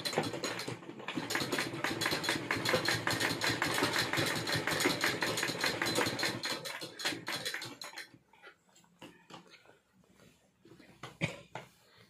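A sewing machine stitching a half collar neckline runs in a dense, rapid clatter for several seconds, then stops, leaving scattered light clicks and handling noises.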